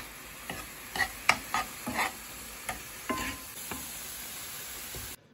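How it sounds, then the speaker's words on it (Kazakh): Ground walnuts are stirred into a mixture for a pie filling. A spoon scrapes close up in a series of uneven strokes that fade over about four seconds, followed by sudden silence. "Және жақсылап араластырамыз."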